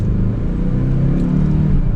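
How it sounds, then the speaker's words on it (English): A 2022 Kia Stinger GT Line with a four-cylinder engine accelerates in sport mode, its engine rumble and exhaust drone rising gently in pitch, loud and close from inside the car. "That was a small acceleration in sport mode there."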